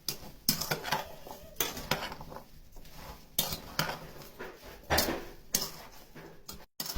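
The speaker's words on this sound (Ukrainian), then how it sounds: "Стакан цукру і чайну ложечку лимонної кислоти. Все перемішуємо." Spoon stirring cut pumpkin chunks with a glass of sugar and a teaspoon of citric acid in a bowl or pot, giving repeated close clinks and scrapes in an irregular rhythm, with no talking.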